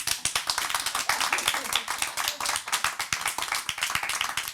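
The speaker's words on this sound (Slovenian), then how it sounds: "Prvič v zgodovini, da je telenovela dobila aplavz" A studio audience on a TV talk show claps for the telenovela Lev je srčna, giving brisk, close, fairly rhythmic applause that holds steady throughout.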